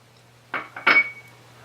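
Butter and cocoa powder going into a saucepan, heard as three short, close clanks and taps of a utensil against the pan, with silence before and after.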